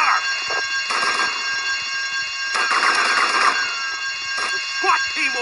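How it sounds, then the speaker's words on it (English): An alarm bell ringing during a heist in the video game GTA Vice City, loud jangling bursts that start and stop repeatedly over a steady electronic game drone. "I told you not to touch that alarm!"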